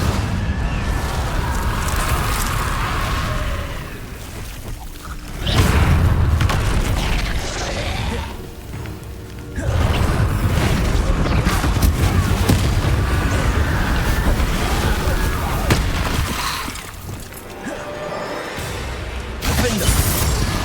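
Confringo spell blasts go off in the Hogwarts Legacy video game, heavy booming explosions and rumbling impacts that swell and drop across a long stretch of loud battle action.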